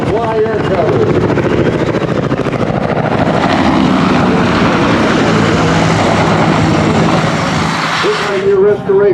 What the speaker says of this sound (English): Now in comes the Cobra to fly air cover.